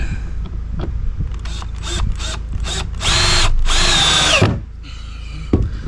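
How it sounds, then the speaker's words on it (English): Cordless power drill driving self-countersinking screws into timber while building a composting toilet, several short whirring bursts followed by one long sustained run that winds down, then a brief final burst; loud and close, no talking. "What I'm doing is putting 3 screws in each side."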